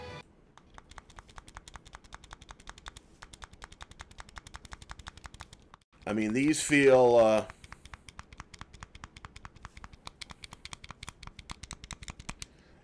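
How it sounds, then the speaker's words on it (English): The stiff buttons on a Hyperkin Pixel Art Bluetooth controller click rapidly and sharply in a steady run of close taps, pausing briefly while someone speaks, then clicking again. "These are very stiff, clicky buttons."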